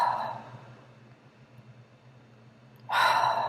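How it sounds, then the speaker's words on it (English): Slow, deep breathing close by: a soft exhale fades into a long quiet pause before another full, airy breath begins. "Take a few deep breaths in and out"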